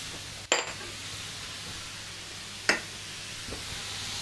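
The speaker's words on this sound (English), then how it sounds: "All I'm doing is basically using my spatula to just kind of cut through the ground meat" A spatula works through ground meat and chili powder in a skillet, giving a few distinct metallic clinks and scrapes over a soft, steady sizzle.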